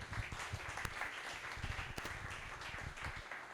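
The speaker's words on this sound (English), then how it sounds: "let's everybody give a big hand for Louis" Audience applause for Louis at a beer club meeting, a steady wash of many hands clapping close by, dense and continuous for the whole stretch with no voices over it.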